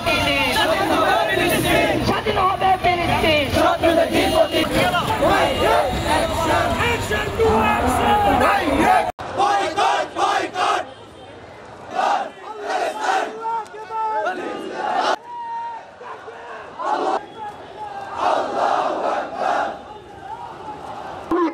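Street protest march in Noakhali over Gaza, a large crowd shouting slogans in rhythmic bursts, first as a dense continuous roar, then as separated call-and-response chants with brief pauses between them.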